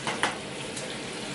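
Shrimp for Cajun salmon and shrimp pasta frying in a pan, a steady dense sizzle with a couple of brief stirring scrapes near the start, close and moderately loud.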